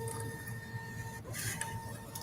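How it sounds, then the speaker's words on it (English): An office printer runs up close, a steady mechanical whir with a high-pitched tone and a brief clatter partway through, no voices over it. "why isn't my printer working?"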